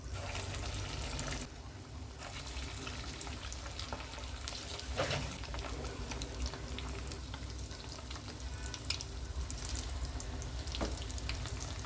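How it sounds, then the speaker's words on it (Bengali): Rice-based snack pieces frying one by one in hot oil in a pan, giving a continuous close crackling sizzle with occasional sharper pops, with no voices. "চুলায় একটি প্যানে তেল গরম করে নিয়েছি। এখন একটা একটা করে দিয়ে দিচ্ছি।"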